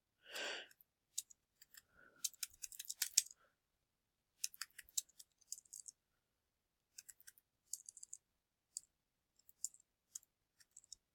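Quiet, sparse clicks of a computer keyboard being typed on, short irregular taps in small bursts with pauses between, faint and close.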